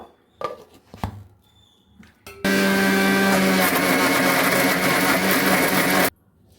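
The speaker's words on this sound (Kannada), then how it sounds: "ಇವಾಗ ಇದನ್ನು ಮಿಕ್ಸಿ ಮಾಡ್ಕೋಬೇಕು" An electric mixer grinder blends four tomatoes with garlic paste, cashews and green chillies, starting after a couple of light knocks and then running as a loud, steady whirring roar for about four seconds before cutting off abruptly.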